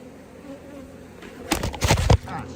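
Honey bees buzz beneath a hive in a forest beekeeping setting, a soft steady drone broken midway by loud close bursts of handling and knocking.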